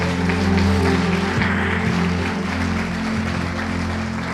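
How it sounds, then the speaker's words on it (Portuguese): A church congregation at a service claps for the Lord, a continuous wash of applause over strong low hum and sustained tones, loud and close throughout. "Vamos lá, salva de palmas bem forte ao Senhor."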